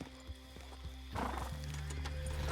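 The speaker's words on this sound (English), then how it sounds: "Those are horses." Horses in the video game Red Dead Redemption 2 neigh and whinny loudly and close by, with hooves clip-clopping on the ground beneath the calls and a few soft background sounds.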